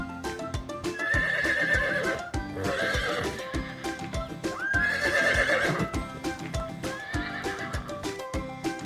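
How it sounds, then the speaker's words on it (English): A horse neighs and whinnies loudly several times in long, shaky calls, with hoof clip-clops and stamping in between, close and alone without any talk. "Horse sound is called neigh."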